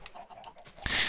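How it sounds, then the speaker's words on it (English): Faint, scattered clucks from chickens on a video game farm, brief and soft, followed by a sudden burst of noise at the end. "Just up here I've got my chickens or ducks,"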